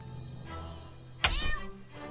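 A cat meows once, loud and close, in South Park: The Stick of Truth, a single drawn-out cry over quiet game ambience with a low hum beneath.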